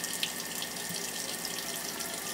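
Hot water running steadily from a tap over a bamboo mat during wet felting, a continuous close hiss with no voices.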